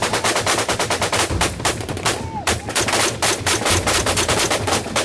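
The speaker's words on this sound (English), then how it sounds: "Taliban fighters unleashed gunfire from the tree line just ahead" Loud, rapid bursts of machine gun fire from a tree line in combat rattle continuously, with a brief lull midway before the rattling resumes just as fast.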